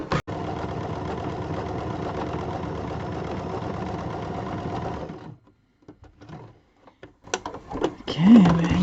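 A sewing machine doing free-motion embroidery texture stitching runs in a fast, steady mechanical chatter for about five seconds and then stops, followed by quiet handling sounds and a short voice at the end.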